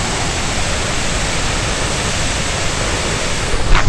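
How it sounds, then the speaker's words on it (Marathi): Ukshi Ranpat waterfall beside the Konkan railway, a dense, loud, steady roar of falling water that fills the whole clip without pause, close and unbroken, with no voices. "उक्षी रानपाट धबधबा पाहू शकता"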